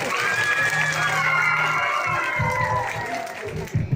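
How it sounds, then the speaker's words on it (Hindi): An audience claps at a school poetry recital, broad applause under a host's voice on a loudspeaker, with scattered cheers and shouts as the clapping fades near the end. "तालियां बजाओ एक बार जोर से इनके हाथ"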